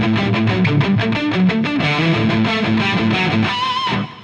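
Electric guitar playing a chorded, distorted riff through an Eventide H3000 reverb preset, loud and sustained with a wide, wet tail ringing out as the notes stop near the end.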